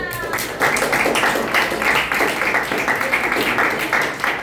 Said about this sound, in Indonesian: sebelum kita lanjut, tepuk tangan semuanya